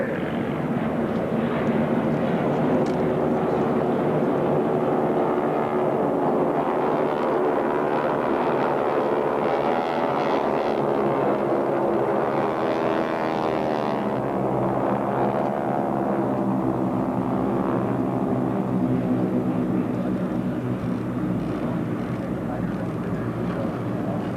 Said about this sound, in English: Ladies and gentlemen, again, the AT-6s, the Harvards, and the SNJ.